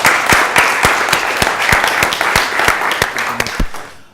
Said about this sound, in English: So round of applause for Paul Harrison.